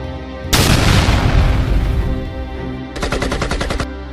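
Loud gunfire from a war short film set in battle: an opening heavy blast rolls into sustained crackling fire, then a rapid burst of machine-gun shots near the end, with no talking.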